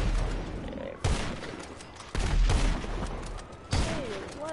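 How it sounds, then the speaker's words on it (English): Gunfire and explosions in GTA Online's Cayo Perico heist: three loud booming blasts roughly a second apart, each followed by a rumbling decay, with scattered shots and faint game noise between. "I can't snipe with these explosions, bro."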